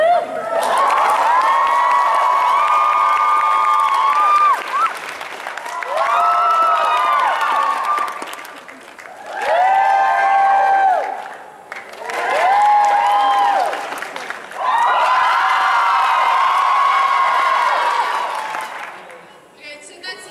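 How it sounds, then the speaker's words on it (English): A large crowd at the AICon 2015 convention cheers and shouts in several loud bursts, each swelling and fading, with brief lulls between them. "You all ready to cheer?"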